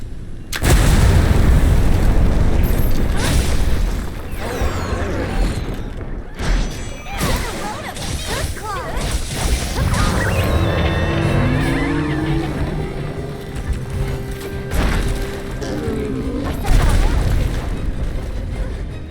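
Bomb blasts in the Monster Hunter Wilds video game, loud booming explosions that open the stretch, then a dense layered battle mix with rumbling impacts and tonal game effects continuing throughout, with spoken voices in places.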